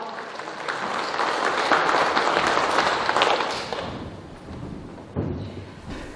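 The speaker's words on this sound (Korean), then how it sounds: "하나님 앞에 우리 영광의 박수," A Korean congregation at Haemalgeum Church in Daejeon claps in thanks and glory to God. The dense applause swells for about four seconds, then fades, and a single dull thump follows near the end.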